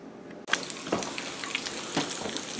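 Bacon frying slowly in a pan on a home stovetop, a steady soft sizzle with small pops and crackles that starts abruptly after a brief quiet moment.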